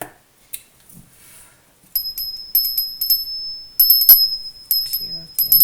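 A small bell rings repeatedly during a spiritual energy check-in, producing bright sustained high-pitched tones in several bursts with quiet gaps between, fairly close and clear with no talking.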